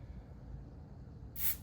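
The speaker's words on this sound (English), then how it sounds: "We're gonna use the melt spray." A short burst of melt spray hisses from a can onto a wig, one brief spritz near the end after quiet room tone, close and fairly crisp.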